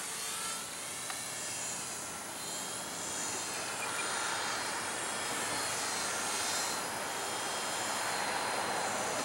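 E-Flite UMX B-17 Flying Fortress model WWII bomber flying overhead, a steady whining buzz of small electric motors that rises and falls slightly in pitch as it passes at moderate distance, loud and continuous with no talking.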